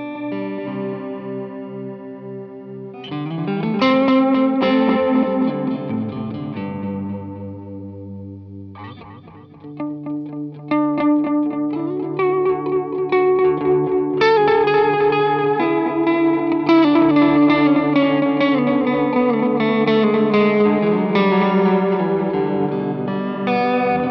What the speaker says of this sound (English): it's like pretty much an analog tape delay simulation